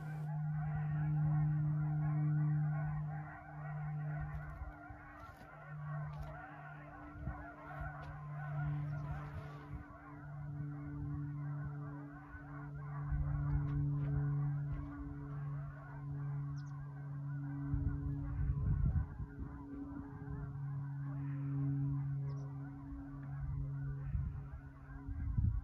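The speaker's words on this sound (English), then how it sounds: "A little flock of geese came over" A flock of geese honks continuously overhead near a radio telescope station, many overlapping calls over a low steady hum, rising and falling as the birds pass.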